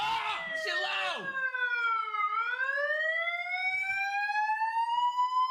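A loud electronic alarm wails after a button press, its tone sweeping down and then rising steadily, sounding alone after a brief burst of excited voices at the start.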